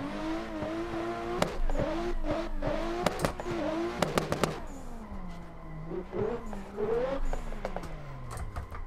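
Rally car in a racing video game, a Nissan S15 drifting on a snowy alpine stage, engine revving and bouncing off the limiter with sharp clicks and pops, pitch dropping and rising as it slides through corners, no talking.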